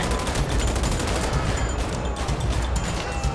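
Police gunfire in GTA V, a dense rapid fusillade of overlapping shots rattling continuously at close range, loud and unbroken throughout.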